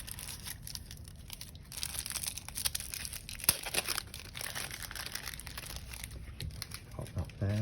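Plastic tear strip being pulled and cellophane wrapping crinkling as an Old English Tarot deck is opened, a steady close rustle of handled packaging with one sharp rip partway through, a voice speaking over it.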